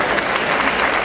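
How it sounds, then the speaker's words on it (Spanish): Dense, loud applause from an audience at an awards ceremony celebrating Portugal in Buenos Aires, a continuous wash of clapping close by. "Fuerte ese aplauso para Luz de Lágrima"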